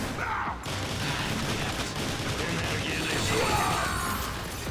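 Dense, continuous gunfire in the video game Transformers: War for Cybertron crackles through the whole stretch, a busy burst-heavy barrage with mechanical clatter and no clear pauses.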